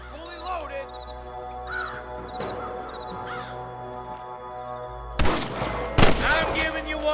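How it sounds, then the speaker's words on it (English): Gunfire in the western video game Red Dead Redemption: two sharp, loud shots crack out near the end, after crows cawing and other ambient game sounds. "I can hear more gunshots."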